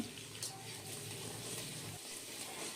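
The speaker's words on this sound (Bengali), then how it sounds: "টুকরো করে কেটে রাখা আলুটা দিয়ে দিলাম। আলুটাকে নেড়েচেড়ে নিয়ে মিশিয়ে নিচ্ছি" Diced potatoes fry with panch phoron in oil over a medium flame, giving a faint, steady sizzle that holds evenly through the whole clip.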